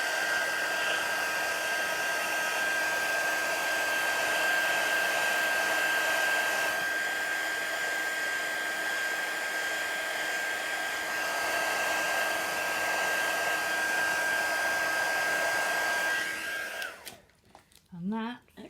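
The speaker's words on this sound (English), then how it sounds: "Give them a quick blast with the heat gun." A heat gun blasts steadily over resin pieces, a loud continuous airy roar with a fixed whine, running alone for about sixteen seconds before cutting off abruptly into brief clatter.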